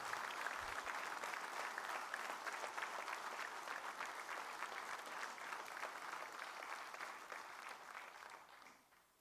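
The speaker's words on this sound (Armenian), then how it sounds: "Ես առաջարկում եմ ծափահարություններով հիշել նրանց" Sustained applause from a large crowd at a political gathering, steady and dense for several seconds before tapering off at the end, with no speech over it.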